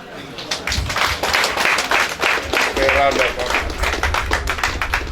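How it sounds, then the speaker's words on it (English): Audience applause at a memorial mass, dense steady clapping from many hands that holds for several seconds at close range, with voices heard faintly beneath it. "Please, another round of applause, please."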